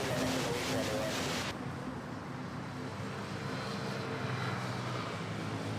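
A jet engine roars steadily from an aircraft departing Manila Airport, loud and continuous throughout, with a brighter hiss at the start that drops away after the first second and a half.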